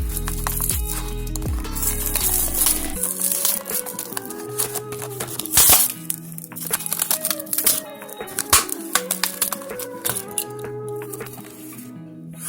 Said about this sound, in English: if this knife isn't doing it, I'll just rip it right open